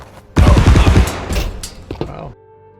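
A heavy weapon in a video game fires a loud, close rapid burst that rumbles and trails off into a metallic clatter, with no voices over it.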